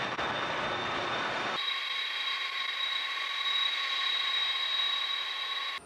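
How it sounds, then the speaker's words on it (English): A Boeing 777-300ER's GE90-115B turbofan engines give a loud, sustained whine with steady high-pitched tones; the low rumble drops away early, leaving the piercing engine tone alone. "stands out as the sole aircraft operating with"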